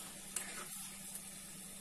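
Food frying in a skillet gives a quiet, steady sizzle close by, with a couple of faint clicks and no voices.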